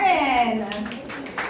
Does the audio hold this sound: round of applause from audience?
yes